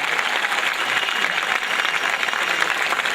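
A crowd at a poetry recital applauds a romantic poet with thunderous, sustained clapping, dense and loud from start to finish.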